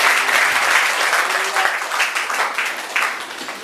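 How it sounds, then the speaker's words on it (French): A church congregation breaks into loud, dense clapping that holds steady and continuous throughout, filling the room with a full wash of applause. "Tu peux acclamer."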